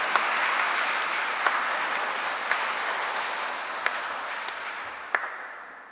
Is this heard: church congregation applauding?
yes